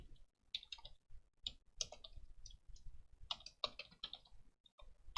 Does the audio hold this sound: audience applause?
no